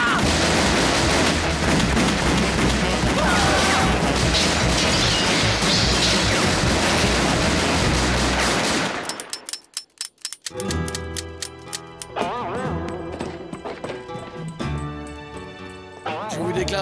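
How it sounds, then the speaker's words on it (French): Cartoon gunfire in a Lucky Luke Wild West scene, shooting wildly into a crowd: a dense, loud roar of noise gives way to a sharp cluster of rapid shots and crashes, then scattered bangs with voices. "On tire dans le tas!"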